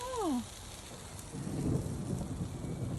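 Steady rain hisses and patters outdoors during a barbecue grill session, with a brief voice at the start and a low rumble building beneath the downpour.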